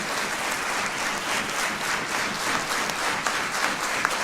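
Dense, sustained applause from an audience fills the whole stretch, steady and close with no gaps.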